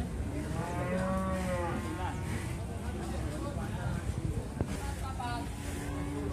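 Cattle at a busy livestock market, several loud drawn-out moos rising over a steady crowd murmur, with people talking nearby and vehicle noise behind.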